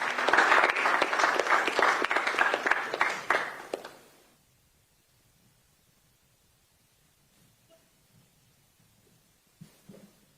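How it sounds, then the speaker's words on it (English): A crowd applauds loudly for about four seconds, the clapping fading quickly into near silence with faint rustling afterward. "A big round of applause to him for me."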